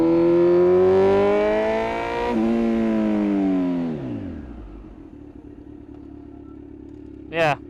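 A 2020 Kawasaki Z900 motorcycle revs hard through rising gears, then the engine note drops steadily as it brakes to a near stop, loud and close, ending in a short rev blip.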